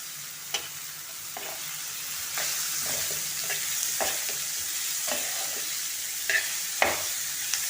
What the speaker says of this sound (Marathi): व्यवस्थित परतून घ्यायचं।